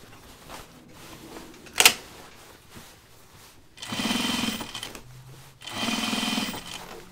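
A sewing machine stitches the side seam of denim jeans in two sustained runs of steady motor whir and needle thrum, close-up, separated by a quiet pause, with a sharp click beforehand.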